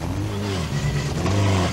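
Rally car driving through a hairpin on a stage, its mid-pitched engine revving and rising and falling as it accelerates out of the bend, fairly close and steady, with no talk.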